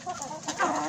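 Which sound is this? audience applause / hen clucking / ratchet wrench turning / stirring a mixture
hen clucking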